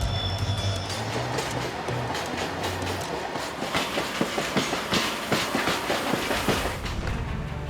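Heavy trains roll slowly past on a railway track at an underpass construction site, a low steady rumble building into loud rhythmic clickety-clack of wheels over rail joints.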